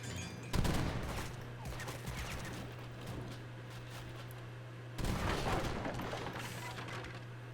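Organ guns in Age of Empires III fire grape shot in a dense, rolling volley of overlapping gunfire over a steady low hum, falling back and then bursting out loud again partway through.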